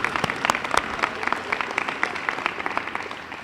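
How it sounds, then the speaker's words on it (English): Audience applause at a Dean's List reception, a room full of people clapping steadily with sharp individual claps standing out, fairly close and continuous throughout. "Round of applause for this."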